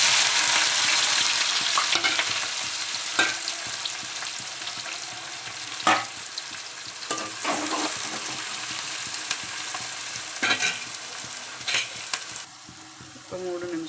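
Chopped onions with cumin seeds fry in oil in a pan, a steady loud sizzle punctuated by occasional scrapes and clinks of stirring.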